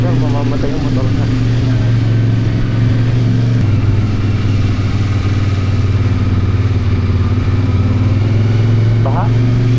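CFMoto 450MT motorcycle engine droning steadily and loud throughout a ride on the Taal Loop, a constant low hum under wind rush, with occasional faint voices.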